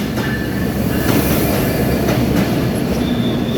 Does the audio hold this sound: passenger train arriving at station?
yes